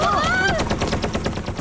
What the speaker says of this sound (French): Rufus, activation des rayons paralysants.